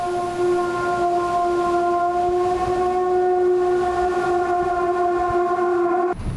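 Drone detector alarm in a police evacuation vehicle on the battered streets of Kostyantynivka, eastern Ukraine, holding one steady, loud electronic tone for about six seconds over vehicle rumble, then cutting off abruptly.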